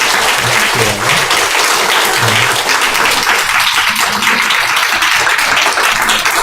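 Loud, sustained applause from a church congregation, dense clapping filling the room without a break, with faint voices underneath.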